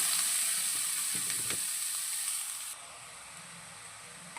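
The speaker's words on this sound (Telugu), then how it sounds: "ఈ క్యారెట్ తురిమిని చక్కగా అనమాట పచ్చి వాసన అంతా పోయేంత వరకు బాగా ఫ్రై చేసేసుకోవాలి" Grated carrot frying in a pan gives a soft, steady hiss with a few faint scraping stir sounds. The sizzle drops suddenly about two-thirds of the way through and continues more quietly.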